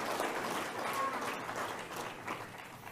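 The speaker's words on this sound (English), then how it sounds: "Again, I don't even know what they're applauding." Steady, dense applause from a large audience at a Catholics for Catholics event, continuous clapping of moderate loudness throughout.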